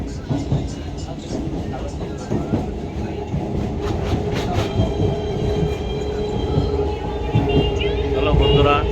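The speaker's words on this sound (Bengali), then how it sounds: "লোকাল ট্রেনে চড়ে কেমন উপভোগ করছি?" A slow local train running on rails toward Canning, heard from inside as a loud rumbling clatter with rhythmic wheel clicks and some metallic squeal, with people talking over it.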